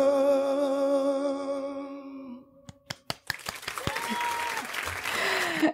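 Audience applause erupts after a song performance as sung music fades, starting with a few sharp claps and building into dense, sustained clapping from a crowd, with a voice briefly heard over it.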